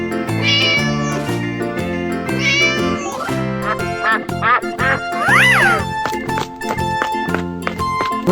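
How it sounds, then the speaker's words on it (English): In a 3D animal sliding video game, a cartoon cat meows several times over bouncy looping game music, with quacking sounds mixed in. "Cat."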